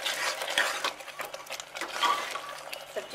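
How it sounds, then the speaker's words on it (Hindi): A spoon stirs a baingan mooli aloo sabzi of eggplant, radish and potato in a pan, with repeated scraping and soft clinks against the metal as the thick vegetable curry is mixed, close and clear with no talking. "और अच्छे से मिक्स कर देंगे।"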